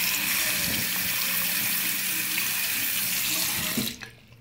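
Water pours steadily from the cold tap of a camper into a sink, a constant close rushing stream that cuts off abruptly near the end.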